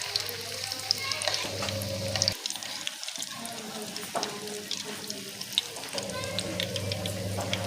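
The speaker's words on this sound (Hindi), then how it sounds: "तो हल्का हल्का फ्राई करना है हमने इसे, डार्क ज़्यादा नहीं करना" Chicken crispy rolls fry in oil with a steady, fairly quiet sizzle and bubbling, joined by occasional stirring and utensil clinks, and a brief dip in the noise partway through.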